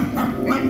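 A voice mimics a dog's bark, one sustained yelping sound up close with no other talk.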